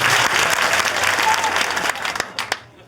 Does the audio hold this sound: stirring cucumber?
no